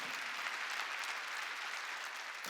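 Worshippers at a Sunday church service clap together in steady, even applause, moderately distant and continuous for a couple of seconds.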